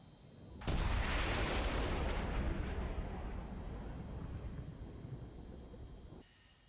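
A Saab Gripen fighter jet in a War Thunder air show roars past in a sudden loud burst of broadband jet noise. The roar slowly fades over several seconds and then cuts off.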